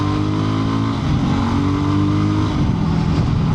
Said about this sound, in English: So when accelerating on this bike